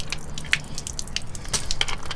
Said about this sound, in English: There's definitely leaking there.